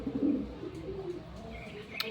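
Pigeons cooing at a racing-pigeon loft, soft low coos near the start with a few faint chirps after them, fairly quiet and with no talk.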